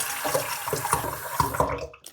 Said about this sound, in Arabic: ودي ميه الحنفيه